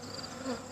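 Honey bees buzz steadily around an open hive during an inspection, a dense, continuous drone close by with no talking.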